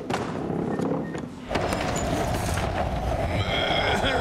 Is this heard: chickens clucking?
no